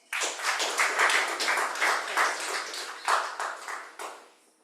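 A big round of applause from an audience welcoming a speaker at an International Women's Day celebration: steady, close clapping that swells in waves and tapers off over about four seconds.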